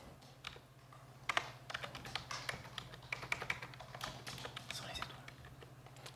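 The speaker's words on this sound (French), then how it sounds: "Je vais pouvoir renseigner mon nom de famille et taper les chiffres de mon numéro de carte" Numbers being typed on a computer keyboard, heard as quick irregular key clicks and taps up close, with soft speech underneath and a low hum.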